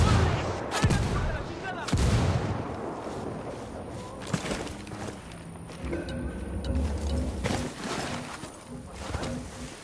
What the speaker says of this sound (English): Call Pakatari for some mortar fire.